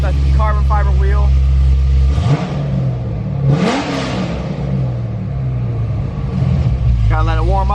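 A Dodge Hellcat's engine runs loud and deep after a cold start, with a low rumbling idle, a couple of rising revs and someone speaking over it.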